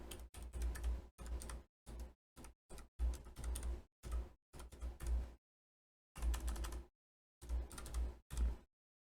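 Keystrokes on a computer keyboard as text is typed into a design program, tapped in irregular runs of close, crisp clicks broken by brief silent gaps, with no voice present.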